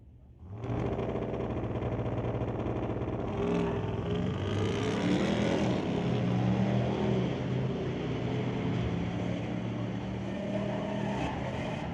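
Pickup trucks launching side by side in a drag race at Mission Raceway Park, engines roaring loud and steady for several seconds as they accelerate down the strip.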